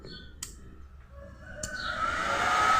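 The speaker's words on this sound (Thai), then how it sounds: "แล้วก็จะมี อ่าพัดลมเสริมให้ด้วยนะครับ เพื่อระบายความร้อนนะครับ" A small powered mixer amplifier's cooling fan spins up after switch-on, a few sharp clicks first, then a steady airy whir that swells and grows louder over the final second or so.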